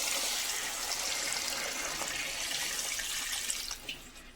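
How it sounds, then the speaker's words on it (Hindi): About two liters of water being poured into a pot of lamb nihari, a loud, steady gush that splashes continuously before tapering off into a few trailing drips at the end. "अभी हम इसमें पानी ऐड करेंगे और ये तकरीबन 2 लीटर पानी हम इसमें ऐड करेंगे।"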